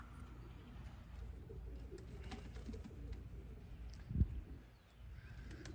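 Young pigeons coo softly at a loft, low murmuring calls repeating quietly in the background, with one brief louder bump partway through.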